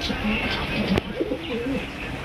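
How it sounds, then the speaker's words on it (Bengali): Domestic pigeons kept in a loft coo softly and repeatedly at close range, low throaty calls over faint background noise with a brief sharp knock midway. "এখানে দেখা যায় কবুতরের জাগ"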